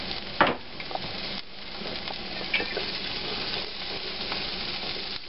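Rough-chopped onions dumped into a hot pan that still holds bits of flan, sizzling and crackling steadily at close range with a few louder pops and stirring scrapes.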